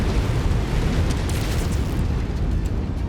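An orbital cannon strike in MechWarrior 5 gives a loud, sustained rumbling explosion with dense low-end roar and crackling debris that fills the whole stretch without any talk.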